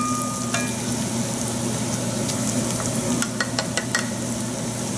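Chopped garlic with turmeric, cinnamon, cumin and allspice sizzling in a pan over translucent onions, a steady close hiss with a few light clicks of stirring, no voices.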